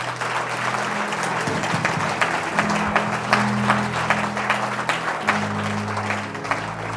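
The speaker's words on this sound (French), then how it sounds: "on acclame le Seigneur" A church congregation applauds the Lord with loud, sustained clapping from a crowd that stays dense and even throughout.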